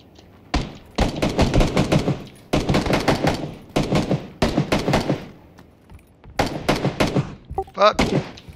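Bursts of rapid automatic gunfire in the video game Polar Potatoes come in several loud clusters separated by short pauses, with voices talking over the shooting.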